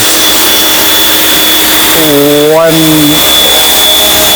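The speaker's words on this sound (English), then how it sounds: "it's a one and done power washer" A power washer cleaning an area rug at a fixed pressure gives a steady, loud, continuous hiss with a whining tone, and a brief rising and falling pitch sweep near the middle.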